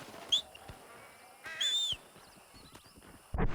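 A horse in the Western video game Red Dead Redemption gives a short whinny over scattered hoof clops and light game ambience, with a louder thump near the end.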